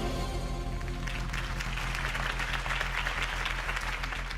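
A crowd applauds steadily in the Batman Telltale game, the clapping building from a light patter into a full, sustained ovation over a faint musical backdrop.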